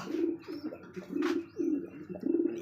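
A pair of Belgian-tagged pigeons coos in repeated soft, throaty phrases close by, with a few faint chirps and no talking.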